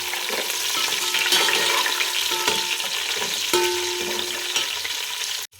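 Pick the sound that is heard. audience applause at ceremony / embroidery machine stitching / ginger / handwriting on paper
ginger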